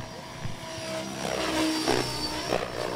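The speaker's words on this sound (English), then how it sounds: "Helicopter goes." A Logo 700 radio-controlled model helicopter flies at the IRCHA 2012 event with its tail twitching, giving a steady, fairly loud whirring rotor and motor drone that swells slightly through the middle with a few brief surges.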